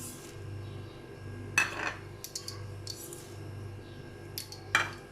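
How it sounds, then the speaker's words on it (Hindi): Spices being mixed in a bowl while making stuffed masala potatoes, with a few sharp metallic clinks and scrapes of a spoon against the bowl spread over several seconds, fairly close, over a low background hum. "इन सब स्पाइसेस को अब मैं मिक्स करने जा रही हूँ एक मिक्सिंग बाउल में।"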